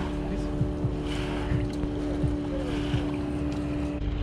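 Motorboats leave for a fishing competition on the Lena river, their engines droning low and steady in the distance under gusty wind noise.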